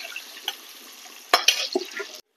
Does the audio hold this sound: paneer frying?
yes